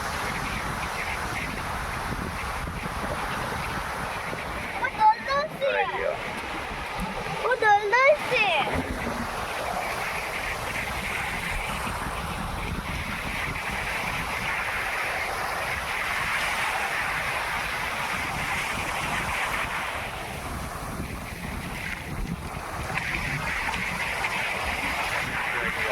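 Sea waves wash steadily onto the shore at Porbandar, a continuous broad surf wash with a couple of louder splashes early on, heard fairly close and without a break.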